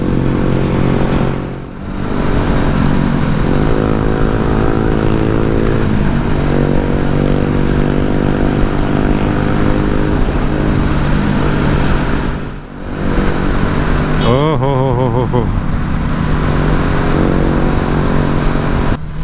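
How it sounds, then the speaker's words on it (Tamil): Motorcycles on a group breakfast ride, bikes from 150cc upward, roar past close by in a continuous engine drone, with one bike revving up sharply near the end. "150cc செக்மெண்ட்லேருந்து எல்லா செக்மெண்ட் பைக்ஸும் வந்துட்டு இருக்குது"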